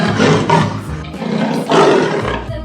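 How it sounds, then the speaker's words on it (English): A leopard roars loudly and close in a sustained, rough growling roar lasting nearly three seconds, rising and falling in intensity with no talking. "Leopard."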